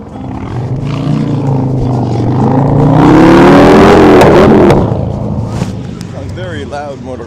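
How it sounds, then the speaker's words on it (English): A loud motorcycle passes along a city street in Los Angeles, its engine roaring as it swells up to a peak and then fades out. It rises over steady traffic and street ambience. "Loud motorcycle."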